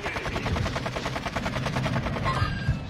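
Rapid automatic gunfire from the video game Call of Duty: Warzone 2.0, a dense, steady rattling burst running almost the whole time, loud and close with low thumps underneath.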